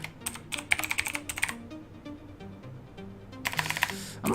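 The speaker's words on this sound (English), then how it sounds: "I'm typing so badly." Someone types on a computer keyboard while playing Pokemon Showdown, with quick bursts of clicky keystrokes, a short lull in the middle, then another fast flurry close to the mic.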